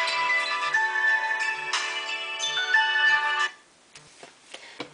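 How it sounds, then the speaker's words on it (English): A mobile phone ringtone for an incoming call plays loudly and close, a repeating melodic tune that runs for about three and a half seconds and then stops abruptly, leaving a quiet room with a few faint handling noises. "I always get a phone call when I'm recording."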